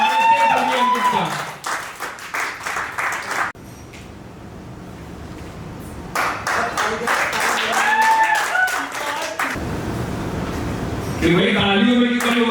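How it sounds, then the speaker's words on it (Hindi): Applause greets an employee at Kootai Chemicals' fifth-anniversary celebration, a busy patter of hand claps in bursts across the clip, mixed with talk and some background sound. "कृपया जोरदार ताली से स्वागत करते हैं हमारे अंकित का"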